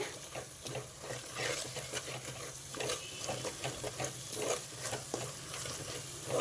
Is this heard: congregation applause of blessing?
no